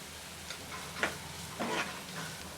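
Vegetables frying with ginger garlic paste in a pan for veg manchurian: a faint steady sizzle with a few soft scraping stirs, close and quiet.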